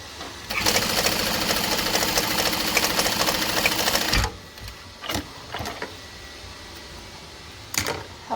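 A sewing machine bastes a seam on foam, running in a loud, steady, fast mechanical whir for about four seconds, then stopping, followed by a few soft handling thumps and a short final burst of stitching.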